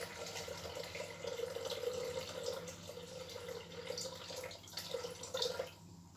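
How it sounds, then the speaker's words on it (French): Water, 500 g of it, pours into a Thermomix bowl already holding oat flakes, a faint, steady trickling splash with slight dripping variations, quiet and unaccompanied by talk. "Vous ajoutez à ça 500 g d'eau."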